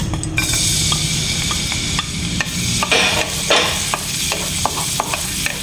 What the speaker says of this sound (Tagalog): igisa muna natin ang ating bawang